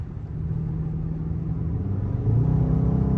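A supercharged Dodge Hellcat engine rumbles steadily in traffic, a deep continuous drone that swells louder near the end as the revs rise, with no talking.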